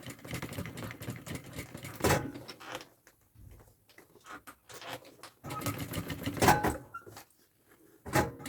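A sewing machine stitches a double-compartment thermal backpack in short close bursts. Each run of stitching is separated by quiet pauses and handling clatter.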